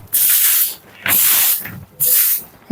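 Broom sweeping dirt off a rooftop, three long scratchy bristle strokes separated by short pauses, close and loud.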